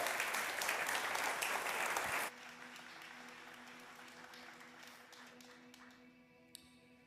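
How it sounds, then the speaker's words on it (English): A church congregation at a Sunday live-streamed service gives Courtney and Julie a loud round of applause after a closing prayer; the dense clapping lasts about two seconds, then stops abruptly, leaving a quiet room with soft sustained tones. "Will you give Courtney and Julie another huge round of applause?"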